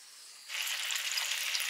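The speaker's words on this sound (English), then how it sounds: "Pork chops. The sizzle." Pork chops hitting a hot pan and breaking into a steady, bright sizzle that continues to the end, close up with no talking.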